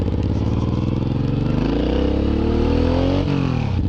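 Suzuki M109R motorcycle cruising at about 25 mph, its engine a loud, steady low rumble with a smooth pitch that rises and then drops slightly, heard close up without speech.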